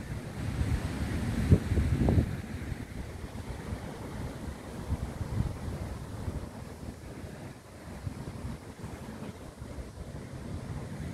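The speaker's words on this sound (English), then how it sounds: "out here at the beach in the Dominican Republic" Waves washing onto a beach in the Dominican Republic, a continuous rushing surf noise mixed with wind buffeting the microphone, heavier at the start and steady afterward.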